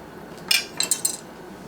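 Metal cutlery clinks and scrapes against a plate while butter is worked into a baked potato, several light, close taps and clicks in a short burst, otherwise quiet.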